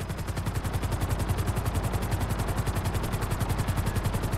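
Grand Theft Auto 5 helicopter rotors beating in a fast, steady rhythm, loud and close, with possible rapid gunfire blended into the pulsing, no talk.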